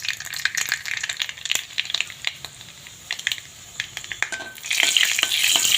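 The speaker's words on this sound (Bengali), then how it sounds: "দিয়ে দেবো কালো জিরা আর শুকনো লঙ্কা ফোড়ন দিয়ে দেবো।" Nigella seeds and dried red chilli crackle and sizzle in hot oil in a wok, with scattered sharp pops and stirring clicks over steady frying hiss that grows louder near the end, with no talk.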